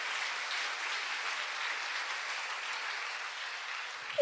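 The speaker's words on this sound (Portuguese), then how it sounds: "Vamos dar uma salva de palmas para ele?" A church congregation claps in a steady, dense wash of applause that holds evenly for several seconds with no talking over it.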